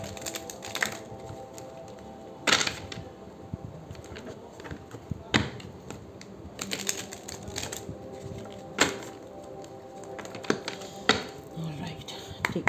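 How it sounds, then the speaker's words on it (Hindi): Tarot cards being shuffled, heard as soft irregular riffling and tapping with a few sharper clacks, fairly close and quiet. "एक बार मैं कार्ड्स को शफल कर लूँ।"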